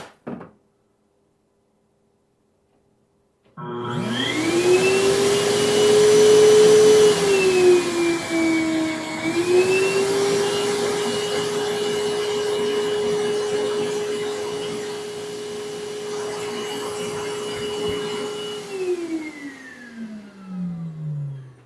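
A bObsweep MAXIM robot vacuum and mop starts up after a brief silence and runs with a steady whirring motor hum, its pitch dipping and rising slightly before winding down near the end, close and alone.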